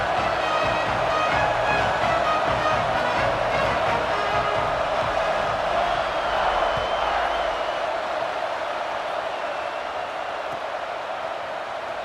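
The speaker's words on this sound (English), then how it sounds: "the crowd is making it really hard to communicate and hear each other right now down on the field" Stadium crowd in a Madden NFL football video game, a steady distant roar and murmur of spectators holding at a constant moderate level throughout, with a slight fade toward the end.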